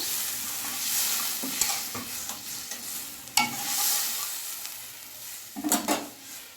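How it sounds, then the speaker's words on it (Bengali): Water poured onto fried spice paste in a pan for a curry of snakehead and featherback fish sizzles hard throughout, with scraping stir strokes and a few louder splashing bursts near the end. "এবারে মশলা কষানো হয়ে গেছে, আমি জল দিয়ে দিলাম।"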